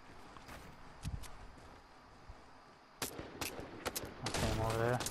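Gunfire in Fortnite, sharp bursts of shots with a flurry of rapid cracks near the end, mixed with footstep-like clatter and moments of talk.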